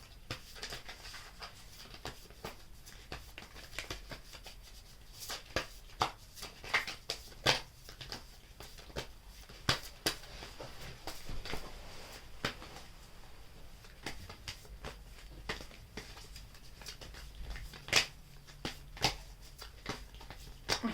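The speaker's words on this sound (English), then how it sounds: "Too many fell. Let me shuffle again." Tarot cards being shuffled by hand during a pick-a-card reading, a soft, irregular run of crisp flutters and taps that keeps going for a stretch, with no voice over it.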